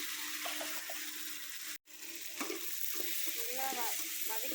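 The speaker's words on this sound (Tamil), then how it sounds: "நல்லா வதக்கி விட்டுக்குவோம்." Tomato with ginger garlic paste being sautéed in a pan for a South Indian village-style tamarind curry, giving a soft steady sizzle with occasional stirring scrapes and a brief dropout partway through.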